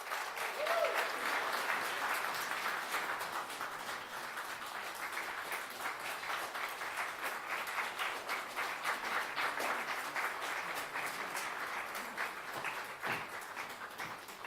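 Sustained applause from a large audience at a youth development strategy launch in KwaZulu-Natal, steady and moderately loud, fading slightly toward the end.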